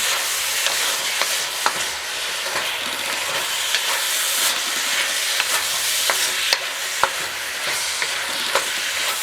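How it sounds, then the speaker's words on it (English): Chicken with ginger and scallions simmering in a pan as the sauce thickens, a steady close sizzle and bubbling with scattered sharp clicks and taps of a utensil against the pan. "Thicken the sauce just a little bit more."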